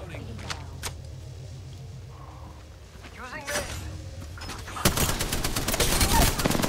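Gunfire in the video game Apex Legends crackles amid game effects, with scattered shots early and a dense burst of rapid fire building near the end, mixed with clatter and background game noise.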